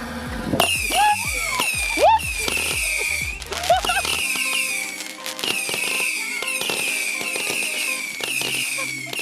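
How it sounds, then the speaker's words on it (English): Fireworks at an outdoor bonfire night crackle and pop in rapid bursts, with sharp bangs and whistling streaks, loud and dense, then settling into scattered crackling. "I thought that was another firework going off."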